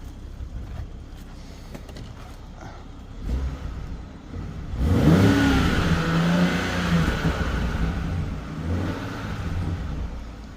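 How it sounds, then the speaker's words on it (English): A 2021 BMW 7 Series engine revs up from idle, with a rising engine note after about five seconds that holds and settles back, close and fairly loud over a steady background hum. "Let me rev it a few times for you."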